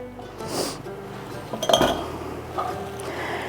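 A glass Weck jar with a glass lid is handled in a kitchen, giving a few light clinks and taps of glass against glass, close and fairly quiet, with one brighter clink in the middle.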